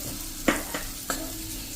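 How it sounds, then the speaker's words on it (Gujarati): Gram flour (besan) frying in oil with onion and capsicum: a steady close hiss of frying punctuated by three sharp spoon scrapes against the pan. "આ જે મેં 1 ટેબલ સ્પૂન જેવો બેસન લીધું છે એ નાખી દેશું, એટલે કૂક થઈ જશે આપણે એકદમ સરસ તેલમાં આ રીતે"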